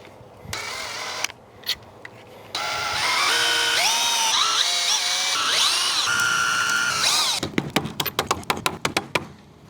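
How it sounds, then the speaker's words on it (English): A power drill drives screws into wooden fence boards, with short bursts and longer whining runs that rise and fall in pitch as the screws bite in, followed by a rapid series of clicking ratchet knocks, loud and close. "now I got the regular drill head back on. We're gonna just put some screws in"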